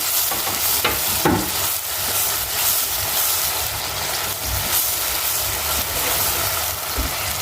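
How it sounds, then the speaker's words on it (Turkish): Chopped onions sauté loudly in melted fat in a pan for a creamy mushroom soup, with a strong continuous sizzle and a few stirring scrapes and knocks. No one speaks over it. "Bunu güzelce kavuracağım."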